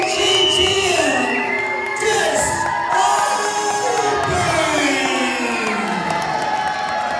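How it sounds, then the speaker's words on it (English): Crowd at a Pro Wrestling 225 event at the LM Lockhart in Denham Springs cheering and whooping for the reigning tag team champions, a loud, continuous roar of mixed voices with rising shouts throughout. "Listen to that response from the Pro Wrestling 225 family here in the LM Lockhart in Denham Springs."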